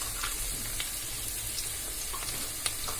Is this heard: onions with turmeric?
yes